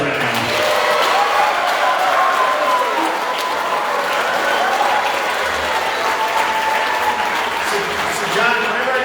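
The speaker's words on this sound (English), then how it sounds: "everybody give a round of applause right now" Audience applause at an interview event with a football safety, continuous clapping throughout with some crowd noise.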